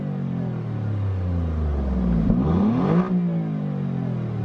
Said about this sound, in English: let's just do it from the inside of the car. A couple of quick blips.